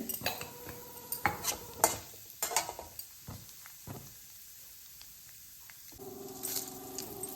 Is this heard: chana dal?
yes